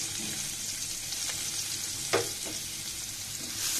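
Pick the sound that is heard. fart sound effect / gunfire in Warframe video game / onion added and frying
onion added and frying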